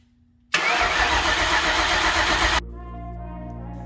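The engine of a turbo Town Car cranks over on its starter, a loud, steady, close mechanical whir lasting about two seconds, then cutting to a lower, quieter rumbling hum.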